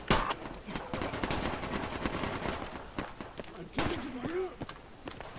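Close-quarters gunfire rattles through a Project Reality co-op battle, with repeated sharp shots and rapid bursts spread across the clip. Voices talk underneath the shooting.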